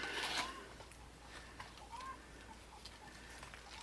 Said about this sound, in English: all the birds outside are just obnoxiously loud right now